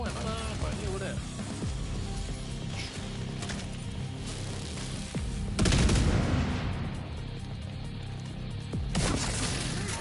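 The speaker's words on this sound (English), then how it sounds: "Throw another grenade over there." Grenade blasts and gunfire during a firefight in The Division 2 on PS4, with steady dense shooting, a loud boom near the middle and another toward the end, while a voice talks over the battle.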